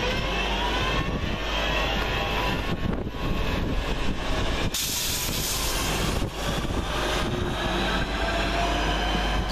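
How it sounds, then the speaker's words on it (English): Two coupled West Midlands Railway class 323 electric trains depart Aston station, a loud continuous traction whine and rolling wheel noise close by, steady throughout with a sharp burst partway through. "the last southbound 323 working now as 323 217 and 323 241 depart with the 1103 West Midlands Railway service from Four Oaks to Redditch"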